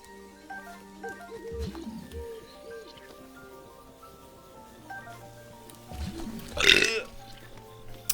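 A creature in Breath of the Wild lets out a burp, two low gurgling bursts near the start and a louder, rougher belch near the end, set over steady game music with some soft voice-like sounds.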